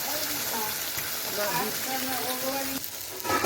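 Crushed garlic frying in a pan for a mustard-leaf paste dish, giving a steady dense sizzle with a voice speaking over it throughout, the texture shifting near the end as it is stirred.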